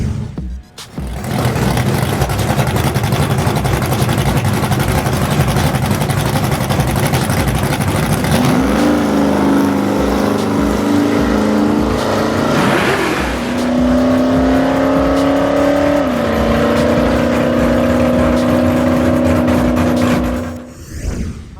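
A hot rod drag racing car idles loudly at the strip, then its engine note rises and holds steady as it rolls slowly through the staging beams, a close, continuous throaty drone that dips briefly before fading out.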